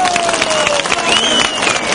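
A crowd at the Sarıgöl bull wrestling event breaks into loud, sustained applause and cheering for the Çınar brothers, dense clapping filling the whole stretch with a faint whistle-like tone drifting through.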